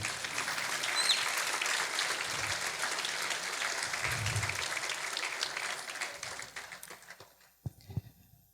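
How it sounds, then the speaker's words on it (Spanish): A church congregation claps for several seconds during a sermon, the broad sustained applause thinning out toward the end, with a few scattered claps lingering. "Dale un aplauso al Señor."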